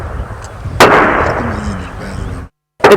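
Sharp gunfire cracks out in Tipis, on the outskirts of Olposumoru, amid clashes between two communities. One loud burst is followed by a decaying rumble, a pause, then another abrupt shot.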